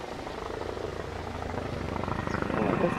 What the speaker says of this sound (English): Go away, chopper, you're screwing up my video.